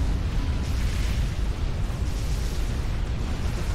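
Strategic missile detonation in Supreme Commander on a Cybran planet, a dense, sustained low rumbling roar that stays loud and steady throughout, with no voices over it.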